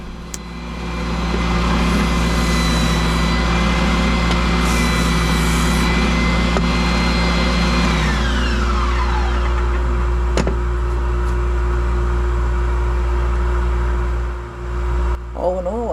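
A Bauer oscillating edge belt and spindle sander runs with a loud, steady motor drone and belt whine while an eraser is pressed against the moving sandpaper, making a shifting rubbing squeal that fades as the machine winds down near the end.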